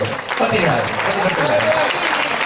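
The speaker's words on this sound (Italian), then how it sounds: "facciamo un applauso ai fratelli di Renzo" Applause for Renzo's brothers at a festive party with cheerful music, a crowd clapping steadily for a couple of seconds while a voice speaks over it.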